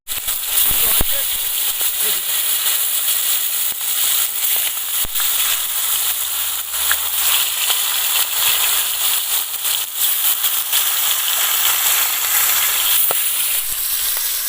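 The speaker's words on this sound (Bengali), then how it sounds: "তেলটাকে ভালো করে গরম করে নেব, মাছগুলো সব ভেজে নেব" Catfish fry in a pan of well-heated oil, a loud, constant, crackling sizzle up close with scattered sharp pops throughout.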